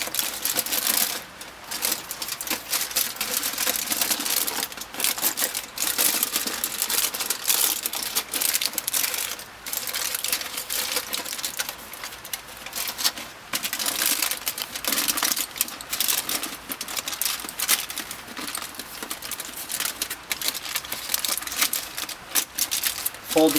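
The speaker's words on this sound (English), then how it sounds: "fold the corners of the foil over your branch. Like this, make it nice and secure so it won't unravel." Aluminium foil folded and crinkled around a tree branch, dense close crackling and crumpling in irregular bursts throughout, with a voice talking over it.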